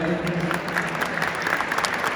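Audience applauding at a sports department ceremony, a steady dense wash of clapping that holds through the whole stretch.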